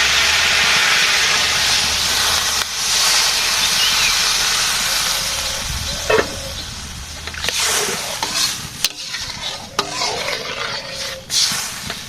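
Gravy is poured into a hot pan, setting off a loud, sustained hiss of steam and sizzling with occasional stirring clatter and knocks near the end.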